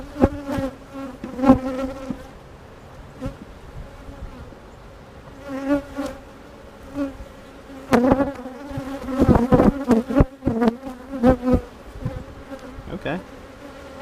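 Honeybees buzz in bursts around an open hive during a mid-March inspection, their droning rising and fading near the microphone with several louder swells later on and no talk over them.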